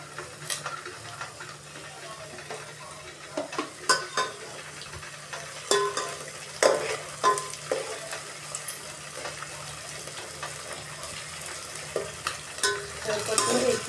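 Onion, garlic and capsicum sautéing with cumin, a steady close sizzle punctuated by irregular clinks and scrapes of a spoon against the pan, alone without talk.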